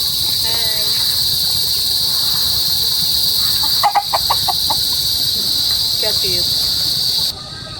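Crickets chirp in a steady, loud, high-pitched drone at five in the afternoon at a milkfish fishing spot, with a few chicken clucks and brief voices mixed in before the chorus drops slightly at the end.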